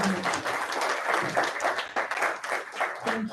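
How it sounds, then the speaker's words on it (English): An audience at a Women in Engineering Day celebration applauds the speakers, a moderate round of clapping heard indoors at some distance, with a voice briefly audible over it. "Can we have a round of applause for all the speakers here?"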